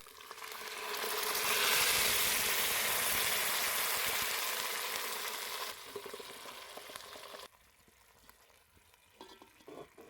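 Tomato puree frying in a pot for creamy tomato soup, with a loud hissing sizzle that swells as it hits the heat, then fades and drops off, leaving quieter stirring scrapes.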